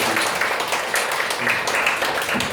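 An audience clapping in a hall at a Korean church debate, a dense continuous patter of many hands, loud and close, with no talk over it.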